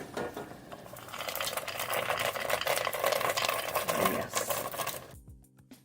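A blender purees a mushroom soup with roasted nuts, a steady dense whirring churn that swells over several seconds and then cuts off abruptly, with no talk over it.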